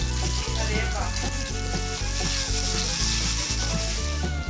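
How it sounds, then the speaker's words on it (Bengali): Sarputi fish fry in hot oil for a Bengali fish curry, giving a steady, close sizzling crackle with faint rhythmic knocks running underneath throughout. "এরকম ভাবে বাকি মাছগুলো গরম তেলে ছেড়ে এপিট ওপিট লাল লাল করে ভেজে"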